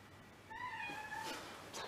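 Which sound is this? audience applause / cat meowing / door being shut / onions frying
cat meowing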